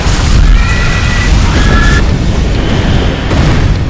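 Bomb explosion in a film scene, a loud, sustained rumbling blast with debris-like roar and a few high tonal cries layered over it, very close and overwhelming throughout.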